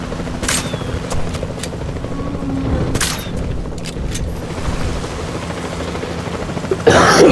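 A helicopter in Jurassic World Evolution 2 drones loudly and continuously as it flies, with a few sharp bursts and booms cutting through the steady rotor rumble.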